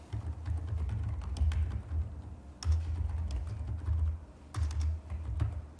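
Rapid typing on a computer keyboard while entering data in an Excel spreadsheet, bursts of close, crisp key clicks separated by brief pauses, with no voice over them.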